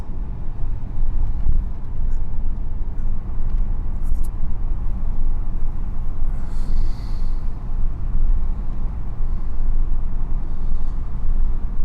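A 1979 Mercedes W126 500 SE driving, heard from inside as a steady low engine and road rumble that holds at an even level throughout, with no talk over it.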